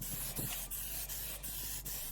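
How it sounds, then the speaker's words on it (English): A continuous hissing aerosol spray of mold release, fairly close, with a low hum underneath and faint rhythmic rustling pulses. "So next up, mold release."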